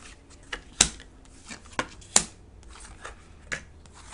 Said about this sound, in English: I shuffled these really, really well